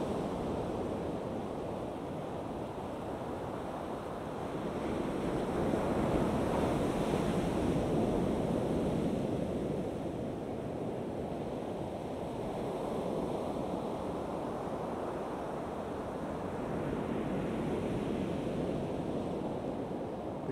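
Waves break and wash steadily onto a North Sea beach at Hornsea on the English east coast, a continuous surging rush with gentle swells and some wind noise and no voices.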